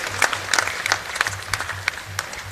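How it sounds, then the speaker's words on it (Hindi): Audience applause at a government inauguration and foundation-stone ceremony for national highway projects in Madhya Pradesh: dense, steady clapping from a large crowd over a low hum, with no speech. "दोनों हाथ उठाकर ताली बजा के उनका स्वागत कीजिए, उनका अभिनंदन कीजिए।"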